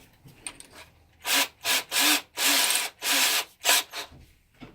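A sheetrock screw is driven into rubber while installing the tach drive on a Kawasaki KE102 motorcycle. About six rhythmic, rasping grinding strokes sound up close, each lasting under a second, after a quieter start with no talking.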